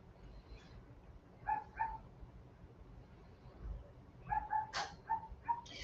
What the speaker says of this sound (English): Sorry about my dog. She's out there barking at the possum.